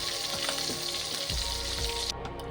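Hot oil left from frying chicken sizzling loudly and continuously as whole spices go in: bay leaves, cinnamon, cardamom and star anise. There are crackling bursts, and the brightest hiss dies down near the end.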